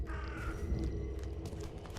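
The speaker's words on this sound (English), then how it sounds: "Why is there a bird there?" A crow caws in The Sinking City game. One short, moderately near call sits over a low, rumbling ambient backdrop.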